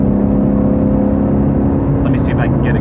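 A 2018 Ford Mustang GT350, a 526-horsepower car, pulls steadily in fourth gear at around 78 mph, its engine a loud, continuous drone from inside the cabin with road roar, and brief higher noises near the end.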